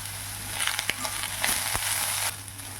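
Sliced bitter gourd frying with curry leaves in oil in a pan, a steady close sizzle with scattered sharp crackles and pops, loudest in the middle before easing off.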